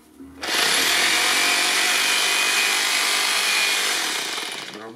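The PIT PBH24-D rotary hammer in hammer-drilling mode gives a loud, continuous buzzing roar, close and steady for over four seconds after a quick spin-up, then tapers slightly at the end, with no voices.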